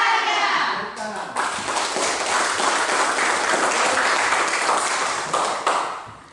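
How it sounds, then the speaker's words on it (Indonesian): A class of fashion-design students at a vocational school claps in a lively, dense burst that continues steadily before easing off, with some chatter mixed in. "Tepuk tangan."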